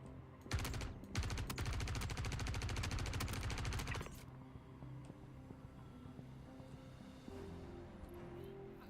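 Rapid bursts of enemy gunfire in the video game Star Citizen, loud and dense for about four seconds, then dropping away to quieter background game sounds.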